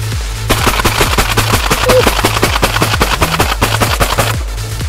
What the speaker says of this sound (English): First shots of the day.